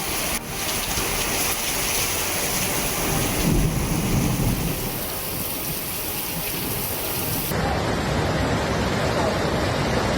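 Heavy monsoon rain pours in a dense, steady roar with low thunder rumbling underneath, loud and continuous throughout with no pause.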